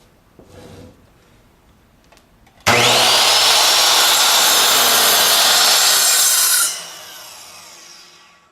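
A compound miter saw cuts straight through a clamped workpiece: a loud, steady blade whine starts abruptly, holds for about four seconds, then fades as the blade spins down, with faint handling clicks beforehand.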